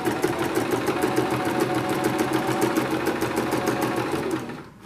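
A sewing machine stitches fabric for a pleated face mask in one steady, fast, close run of rhythmic mechanical whirring and clatter, slowing and stopping right at the end.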